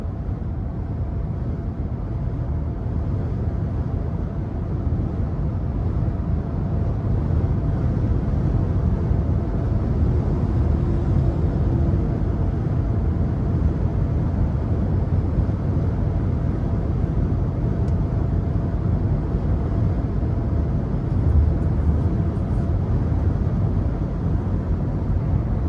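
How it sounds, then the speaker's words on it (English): A 2023 Nissan Frontier SV Crew Cab cruises down the interstate, filling the cabin with a steady low road rumble and wind noise that holds at an even level throughout, with no talking. "really good ride quality coming down the interstate here"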